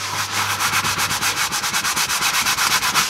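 A horsehair brush scrubs leather cleaner into a car seat with fast, even back-and-forth strokes, a steady rhythmic rasping close by and without talk.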